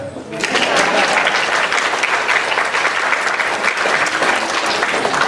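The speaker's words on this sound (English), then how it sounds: "I don't get a clap." Audience at a Hmong culture event breaks into loud applause that starts abruptly and continues as a dense, steady wash of clapping, with no speech over it.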